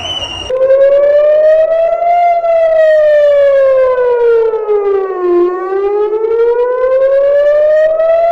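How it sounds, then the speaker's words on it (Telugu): Civil defense sirens wail across Israel during an Iranian missile attack, one loud, close siren tone sliding slowly up and down in long sweeps without pause. "క్రమంలో దేశవ్యాప్తంగా సైరన్ల మోత మోగుతుంది."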